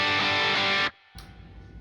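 Electric guitar through an overdrive pedal at full drive, a loud, dense sustained distorted chord ringing for under a second before cutting off abruptly, leaving a low residual hum.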